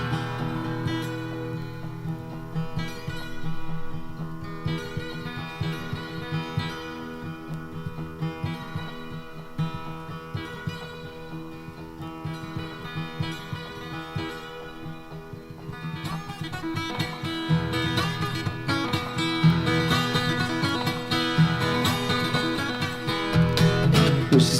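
Acoustic guitar from a 1974 live folk festival set, played to mimic the lonesome wail of the Panama Limited train far off in the mountains, with sustained slide-like tones and steady picking that swell louder toward the end.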